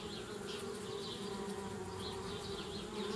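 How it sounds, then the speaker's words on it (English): Bees buzz steadily around a treehouse in the adventure game Anna's Quest, a close, continuous drone that holds at an even level throughout with no voices. "Darn bees, trying to move into our treehouse."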